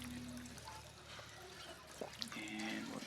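Gulping and trickling water sounds as a character drinks in the Fallout 4 video game, moderately loud and mixed with game ambience and a brief tonal cue.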